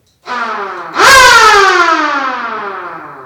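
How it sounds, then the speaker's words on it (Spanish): An electric siren wired into a building's phase and neutral electrical installation starts abruptly with a loud wail, then jumps up in pitch and slowly slides back down, sounding alone. "nos va a funcionar bien la sirena"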